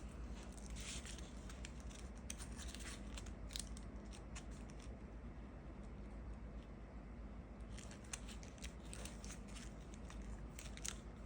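Close hand folding of colored paper for a Gaia stamina-type paper Beyblade: soft crinkling and crisp crackles in scattered clusters, with a quieter pause in the middle and no voices.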